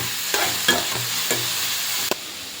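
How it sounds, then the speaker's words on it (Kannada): Onions and other ingredients sizzle in a hot pan for fried rice, with a steady close frying hiss and a few sharp scrapes of a spoon stirring. "ಈಗ ಇದಿಷ್ಟನ್ನ ಸ್ವಲ್ಪ ಹಸಿ ವಾಸನೆ ಹೋಗೋ ತನಕ ಒಂಚೂರು ಬಾಡಿಸ್ಕೋಬೇಕು"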